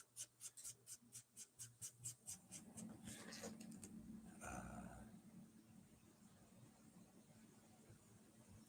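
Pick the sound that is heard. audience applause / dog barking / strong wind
dog barking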